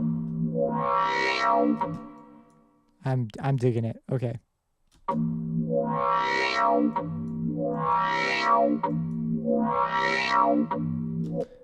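Long sustained phaser synth bass notes swell and fade with a washy reverb tail, repeating in a slow pattern, briefly interrupted by a short spoken remark.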